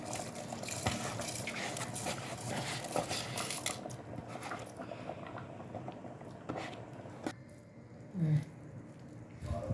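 Cooked mutton for biryani has rice added, with metal utensil clinks, scraping and a soft pouring rush in a pot, busier in the first half and then quieter with scattered clanks.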